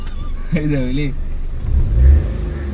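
A car engine hums and swells under a driving lesson, with a low rumble that builds toward a brief rev near the end while a voice talks over it.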